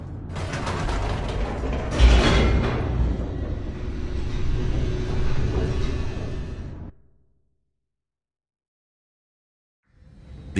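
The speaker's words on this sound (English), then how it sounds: "The elevator raced downward," Elevator plummeting downward in the video game The Stanley Parable: a dense mechanical rattle and grinding rumble, loud and steady for about seven seconds, then cut to silence before a faint return.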